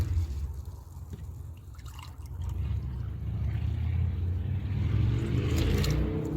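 Vinegar poured into a black dye mix, a continuous liquid trickle and splash running several seconds over a low, steady rumble, growing slightly fuller toward the end.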